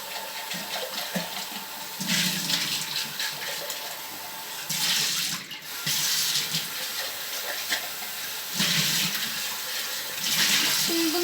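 Tap water runs and splashes while a container is rinsed, its pitch and loudness shifting as the flow hits and fills it, close by, with brief changes where the container is moved.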